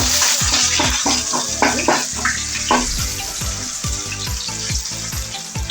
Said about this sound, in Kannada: 2 ಒಣಮೆಣಸಿನ್ಕಾಯಿ ಹಾಕ್ತಾ ಇದ್ದೀನಿ.